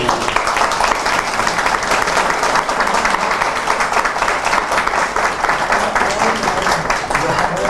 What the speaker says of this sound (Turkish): bu arkadaşları bir alkışlamak lazım diye düşünüyorum